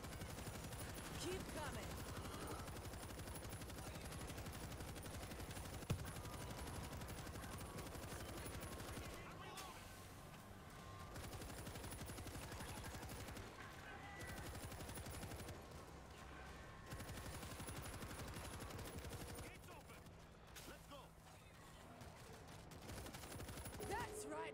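Sustained machine gun fire in the zombie shooter World War Z, a dense continuous rattle of automatic bursts that runs nearly the whole time, with a voice talking over the shooting.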